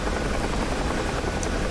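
Helicopter in a festive helicopter rescue video game, a steady, loud rotor and engine drone that holds evenly throughout with no talk over it.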